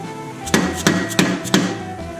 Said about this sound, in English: we're just going to use this socket and we'll hit it with a hammer and drive it in there